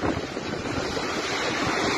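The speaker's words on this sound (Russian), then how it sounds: "А в море шторм 5 баллов." Stormy sea waves crash and roar at a beach in Sochi during a storm, a continuous loud surf rumble mixed with strong wind noise, with no voices.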